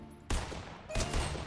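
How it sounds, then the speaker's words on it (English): Bursts of Fortnite gunfire, two dense volleys of rapid shots about half a second apart, loud and close with no talk over them. "Someone's shooting at us."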